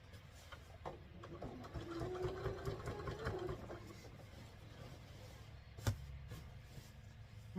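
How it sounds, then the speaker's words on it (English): A home sewing machine stitches binding around a quilt at reduced speed, a steady continuous motor whirr with a mechanical needle rattle running throughout, close and moderately loud, with a brief clunk near the end. "And we're just going to sew this all the way around."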